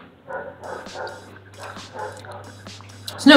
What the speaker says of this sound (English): She is having a conversation with some other dogs.